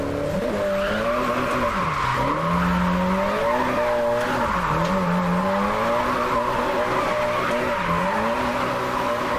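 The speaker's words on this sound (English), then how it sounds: "look at me drifting like I'm actually drifting" A car drifts in a racing video game, with tires squealing in long wavering tones over a continuous engine drone, loud and close, the squeal rising and falling as the slide changes.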